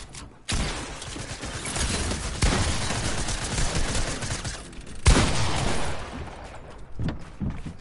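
SMG fire in a video game, long rattling bursts of rapid shots, loud and close, broken by brief pauses, with one harder burst partway through.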